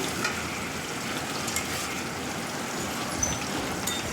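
Pointed gourd fries in a pan with a steady, moderate sizzle and faint stirring, heard alone for about four seconds.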